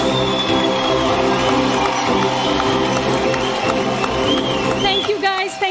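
An awards-show audience at the Zee Critics' Choice Awards applauds steadily in welcome for Anupama Chopra, a dense, continuous wash of clapping with music mixed in underneath, holding at a constant level throughout.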